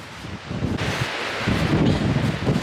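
Wind gusts roar steadily through a snowy windstorm in open country, buffeting the microphone with broadband rumble that swells and eases over a couple of seconds, with no voices.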